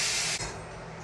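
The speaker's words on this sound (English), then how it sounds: "I'm going to rinse this pan out real quick" Tap water sprays hard into a pan being rinsed, a bright steady hiss that abruptly drops and softens after a brief break, continuing as a duller stream.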